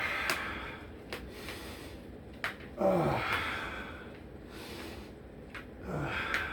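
Slow breaths in and out during a yoga stretch for tight hips, soft and close, with a few short sharp sniffs and longer airy exhales, no speech.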